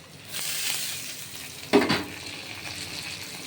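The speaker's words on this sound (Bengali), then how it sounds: "এই আলু এবং বেগুন যেই ভাজা ভাজা হচ্ছে পেঁয়াজ দিয়ে" Potato and eggplant fry with onion in a pan, giving a steady close sizzle with a brief louder stir or clatter near the middle, no voices.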